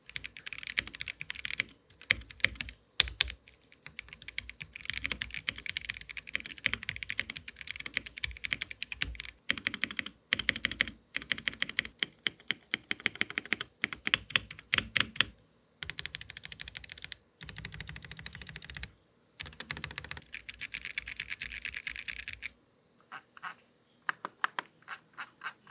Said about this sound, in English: That combined with Kreo's linear switches sort of makes it sound like this.